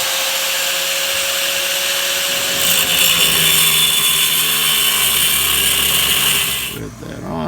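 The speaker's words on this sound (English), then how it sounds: "I've got to cut this bolt off right next to the fuel tank." Power tool cutting off a bolt beside a vehicle's fuel tank during a suspension job, a loud steady grinding whine that swells partway through and then cuts off near the end.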